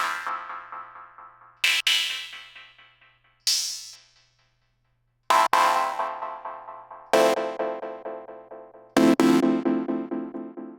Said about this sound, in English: So if I kind of move this filter around